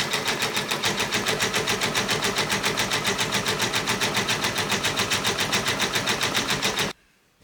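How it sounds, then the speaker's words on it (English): A large embroidery machine stitches out a design with a fast, even, rapid-fire needle pulse, loud and close, running steadily before stopping abruptly near the end. "I'm just going to use my larger embroidery machine to stitch out the design"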